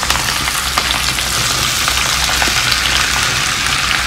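Ivy gourd (dondakaya) pieces fry with garlic in a pan, a loud, dense, unbroken crackling sizzle close up throughout.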